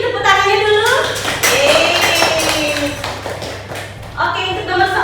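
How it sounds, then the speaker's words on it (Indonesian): Classroom applause, a short burst of clapping from students in the middle, with a teacher speaking before and after it. "Yuk tepuk tangannya dulu."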